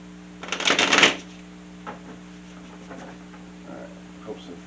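Tarot cards are riffled in a quick, crisp burst up close, followed by a few soft taps and shuffles against a quiet background hum.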